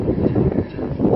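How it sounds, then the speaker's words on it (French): Strong seaside wind buffeting the microphone in a loud, continuous low rumble, with no voices over it. "je m'excuse s'il y a beaucoup de vent"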